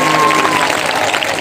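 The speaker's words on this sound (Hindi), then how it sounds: "दरबार में ताली बजाते हो" A crowd claps together at a devotional gathering, loud, dense and continuous through a short burst.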